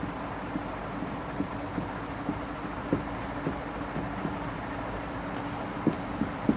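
Chalk or marker taps and scratches across a classroom board in short, irregular strokes, a steady background hum beneath the faint writing sounds.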